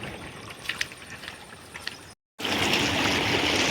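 A swollen village river in the rainy season runs high enough to submerge its weir, its steady rushing flow carrying on loudly throughout apart from a brief gap, with a few faint higher splashes or knocks near the start.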